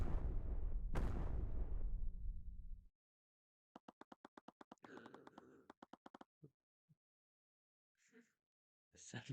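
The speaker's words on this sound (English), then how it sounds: "Why did it sound like there was explosions?" A game explosion rumbles for about three seconds with a second blast partway through. It is followed by rapid text-blip clicks and a few scattered soft game sounds, with no talk.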